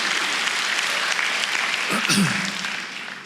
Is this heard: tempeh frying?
no